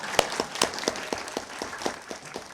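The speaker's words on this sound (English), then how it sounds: "you're allowed to clap for musical performances" Sparse clapping from a few people at a city council meeting after a musical performance, single claps in a loose, uneven rhythm, fairly faint in a quiet room.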